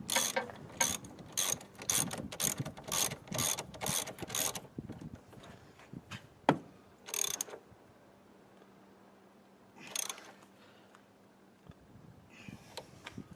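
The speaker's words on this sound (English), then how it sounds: "now I'm just going to put the bolts, do this nut up, and then that should be it." A ratchet tightens the bolts and nut on the upper engine mount of a Citroen Berlingo, with close, crisp, evenly spaced clicking strokes in a fast run, then a few isolated bursts separated by quiet pauses.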